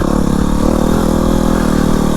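A Yamaha WR250R dirt bike engine pulls steadily uphill in second gear on a bumpy trail, a close, loud, unbroken drone that holds the same throaty pitch throughout.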